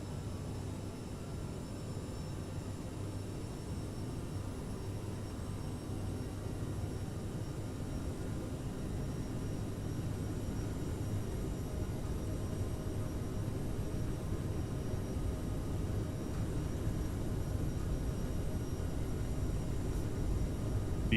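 A CRJ-700 regional jet rolls for takeoff in Microsoft Flight Simulator, a steady, droning engine roar with a low rumble that holds evenly and builds slightly over twenty seconds, with little talk.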